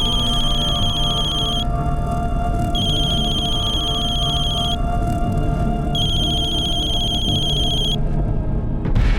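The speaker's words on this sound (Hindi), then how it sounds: "माँ बेल तो जा रही है लेकिन फोन नहीं उठा रही है" A telephone rings again and again with no one answering, bright repeating bursts of ringing separated by short pauses over a steady, busy indoor background.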